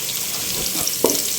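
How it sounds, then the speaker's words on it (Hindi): A spoonful of ginger garlic paste and whole black peppercorns fry in hot oil for chicken haleem, a steady soft sizzle with a small clink partway through and no talking. "अब इसके अंदर 1 चम्मच जो है वो अदरक लहसुन का पेस्ट डाल के फ्राई करेंगे"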